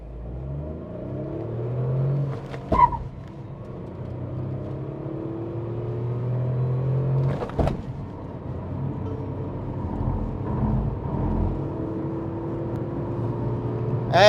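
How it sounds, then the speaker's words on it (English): A Tata Nexon iCNG car builds revs and accelerates hard from standstill to 100 km/h, engine note rising steadily in loud, continuous sweeps with brief gear-change breaks, heard from inside the cabin with no talking. "Now let's quickly also have a 0 to 100 run on this car and see how quick it is."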